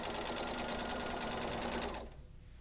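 A sewing machine chain stitches quilt block pieces, running in a fast, steady whir for about two seconds before stopping abruptly, close and fairly quiet.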